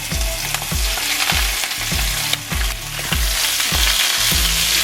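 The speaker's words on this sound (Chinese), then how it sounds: "用这个煸出来的油来煸香菇" Shiitake mushrooms stir-frying in fat rendered from pork belly give a loud, close, continuous sizzle punctuated by regular rhythmic scrapes and knocks of a spatula against the wok, with no speech.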